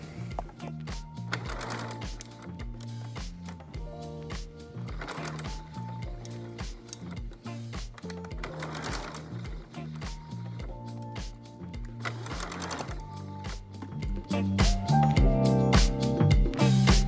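A sewing machine stitches a flat felled seam in Liberty fabric, whirring in several bursts separated by short pauses. The sound is fairly quiet and close, with a louder run at the end.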